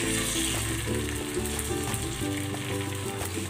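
Eggplant and egg frying in hot oil in a pan, a loud close continuous crackle and spatter that holds steady throughout, with a low hum beneath and no speech.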